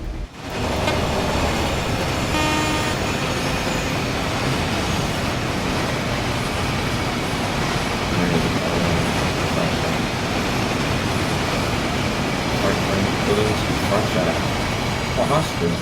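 An intermodal freight train in Train Sim World 5 runs at steady speed on the West Coast Main Line, its continuous rumbling roar of rolling wheels and engine filling the scene while someone talks over it.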